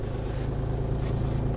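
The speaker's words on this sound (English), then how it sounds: "This time I'm going to move off with very little acceleration" A car pulls away slowly on snow with only slight throttle, its engine a steady low, even hum with no revving surge, close and continuous throughout.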